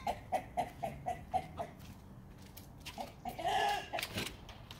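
Hens cluck in a quick rhythmic series, then a louder drawn-out squawking call rises near the end as a hen announces she has laid an egg, close by and without talk.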